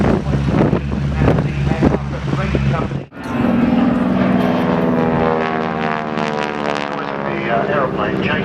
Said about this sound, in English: Aeroplane changes depending on where you're standing in relation to the rotation of the propeller. So not everybody hears that rasping noise at the same time.